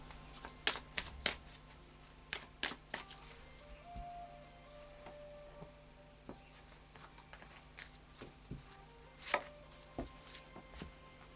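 Cards are shuffled by hand in short bursts of crisp riffling and tapping, close and fairly quiet, with pauses between.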